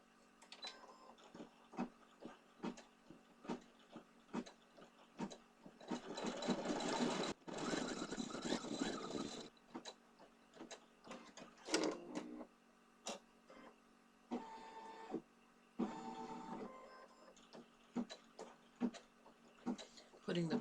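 An embroidery machine stitches with gold thread for a leprechaun pot-of-gold design, sounding as close, busy mechanical clicking and whirring bursts that start and stop repeatedly, with one longer louder run in the middle.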